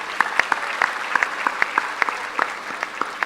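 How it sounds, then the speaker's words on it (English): Scattered applause from a small group, individual claps clearly distinct in an uneven patter, steady and moderate throughout. "Please, another round of applause."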